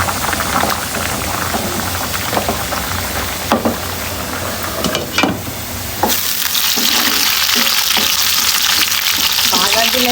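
Slow-cooked beef leg curry (paya) in a pot, with hot tempering poured in. A loud, dense sizzle and bubbling roar runs steadily and grows rougher partway through, with a few brief clatters on top.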